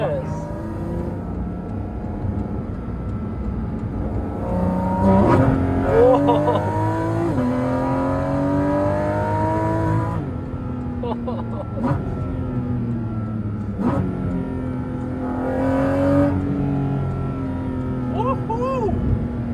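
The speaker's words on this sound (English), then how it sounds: "Can you try the neutral revving?" A Porsche GT4 RS engine revs in neutral, rising and falling through several sharp blips over a steady engine hum, with people talking and exclaiming throughout.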